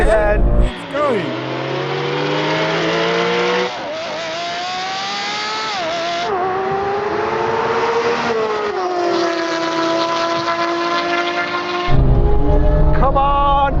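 Porsche 992 GT3 RS launches hard in a drag race, its engine screaming up through rising gear pulls with sharp shifts, loud and sustained, while an excited voice comments over it.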